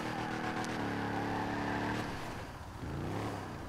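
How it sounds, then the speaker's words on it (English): A muscle truck engine in Grand Theft Auto V revs loud and close, with a steady throaty roar that shifts pitch midway and carries on without any talking. "Sounds like a muscle truck, hold up."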